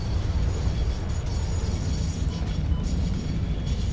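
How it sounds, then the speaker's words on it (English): A train pulls in within a video game, heard as a dense, steady, loud rumble with rattling mechanical texture throughout and no voices. "Here comes the train."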